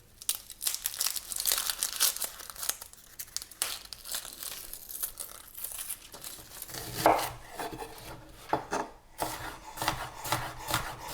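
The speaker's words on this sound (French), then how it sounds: "L'échalote, vous allez la couper tout simplement comme vous voulez, soit la ciseler, soit l'émincer." A knife cuts shallots on a board, giving irregular crisp crunches and soft scraping strokes up close, with short sharper chops here and there and no voice over them.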